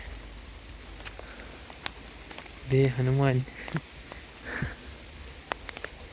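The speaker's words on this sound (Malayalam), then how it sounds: "മഴയും പെയ്യുന്നുണ്ട്" Steady rain patters on surfaces throughout in misty Darjeeling, with a person speaking briefly in the middle.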